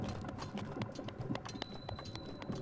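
Quick, rhythmic horse hoofbeats in The Legend of Zelda: Breath of the Wild clatter steadily at close range, a galloping clip-clop pattern with a faint tonal hum in the background.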